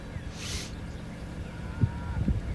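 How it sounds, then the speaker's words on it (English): A low cow moo sounds once, moderately close, against a faint outdoor hum near Lawton, Oklahoma, under a developing supercell, followed by a couple of short low grunts. "You can hear the cows mooing."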